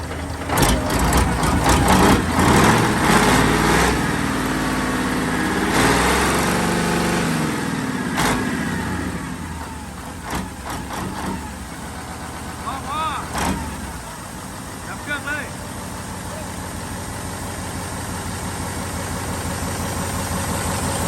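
A trailer's engine runs steadily nearby, revving and roaring early on, then settling into a lower idle while people talk over it.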